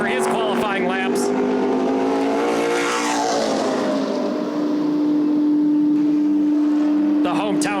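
The number 99 street stock race car runs qualifying laps with a loud, steady engine drone that swells and fades as it passes, while a voice talks over it.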